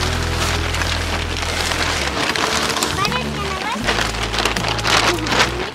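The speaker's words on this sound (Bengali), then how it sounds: "এখন বৃষ্টিটা একটু কমেছে।" Rain falls on seedlings in a village vegetable field, a dense, steady patter with wet pops and crackles that fills the whole stretch, while faint voices come through underneath.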